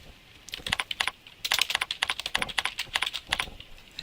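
Someone types on a computer keyboard while setting up a text label in point-of-sale software, producing a close, quick run of crisp key clicks in short bursts with brief pauses.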